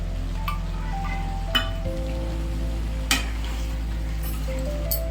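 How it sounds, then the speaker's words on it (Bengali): Cut new potatoes fry in a pan for a chicken dish, a steady soft sizzle with a low hum underneath and a few light clinks of a utensil against the pan. "আমি কেটে রাখা আলু ছিল, সেই আলুগুলোকে দিয়ে দেবো, যাতে করে আলুগুলো সেদ্ধ হয়।"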